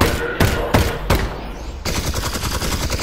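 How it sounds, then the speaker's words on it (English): A heavy gun fires in the Half-Life: Alyx VR game, with three loud, booming single shots followed by a rapid sustained burst of automatic fire, close and dominant. "So I have some heavy gun here."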